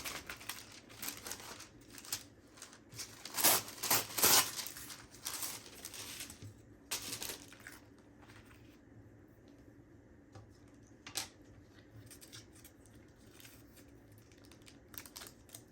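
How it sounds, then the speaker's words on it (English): Scissors cut rips into wax paper on a journaling card, giving close, crisp crinkling and snipping in irregular bursts that are louder early on and then thin out to sparse rustles. "I'm going to cut rips into it to make it look just lovely and vintage and imperfect and perfect"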